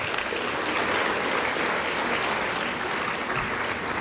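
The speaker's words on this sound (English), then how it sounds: "All right, let's give them another round of applause." An audience at a junior-division science fair awards ceremony applauds a winner, producing dense, loud, uninterrupted clapping from a large crowd that stays even throughout.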